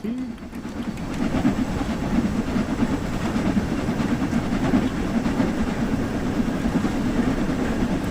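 A Goblin Suffragette line train in Train Sim World pulls away uphill with a steady, fairly loud rumbling drone and a faint hiss, building slightly and holding constant for the whole stretch.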